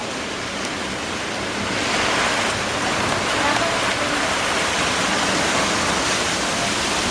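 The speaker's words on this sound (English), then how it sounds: "Look at the rain blowing." Light rain driven by strong storm wind, a dense steady hiss that swells louder after a couple of seconds and keeps rushing on without a break.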